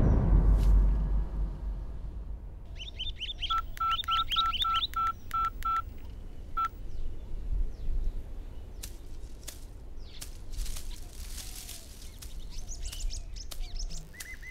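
A telephone being dialed in a horror thriller, with a quick run of distinct keypad tones under steady background hiss and scattered bird chirps, and no talking.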